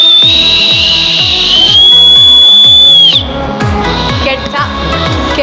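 Piercing notes from a 1990s candy whistle, one long steady blow followed by a wavering, weaker tone, over background music with a steady beat.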